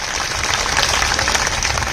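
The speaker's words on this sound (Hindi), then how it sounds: "तो अपने भाग्य के लिए आप जोरदार ताली बजा सकते हैं आज" A seated audience at a Hindi spiritual happiness programme claps loudly and steadily, with broad, continuous applause and no speech over it.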